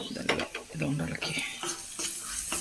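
A spoon stirs chopped spinach leaves in a frying pan, giving a soft sizzle under repeated scraping and clinking strokes against the pan, close and fairly quiet.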